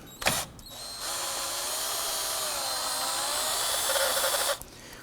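Power tool with a 10mm socket spinning off a nut on a 2008-2011 Ford Focus during brake master cylinder replacement, a short click then a steady whirring drone lasting several seconds before stopping.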